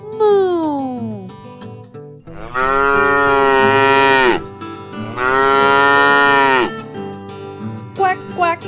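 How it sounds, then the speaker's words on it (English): A cow moos in two long, loud, drawn-out calls in a children's farm-animal setting, with a brief vocal sound before the first call. "Can you moo like Daisy?"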